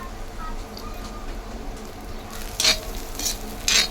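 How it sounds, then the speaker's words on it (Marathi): Finely chopped onion sizzles softly in a pan after mustard seeds, with a steady low hiss and a few louder scrapes of stirring near the end, heard up close and without speech. "बारीक चिरलेला कांदा, परतून घ्यायचा कांदा जरा"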